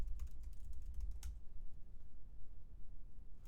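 Brief burst of quick, light clicks from a computer keyboard while someone types code, faint and close, ending after about a second and followed by quiet room tone.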